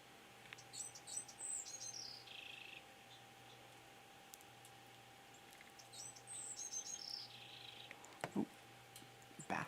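Two similar songs from a Bewick's wren, each a jumble of high notes ending in a buzzy trill, repeated several seconds apart over a steady low hum in a backyard.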